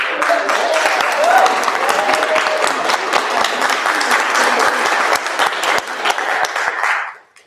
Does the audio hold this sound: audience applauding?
yes